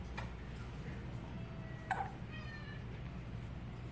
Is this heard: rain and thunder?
no